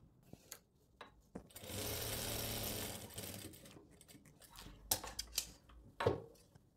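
A sewing machine runs in one steady buzzing burst of about two seconds while stitching an invisible zip onto fabric in a boutique workroom, framed by soft handling clicks and rustles, close and without talk.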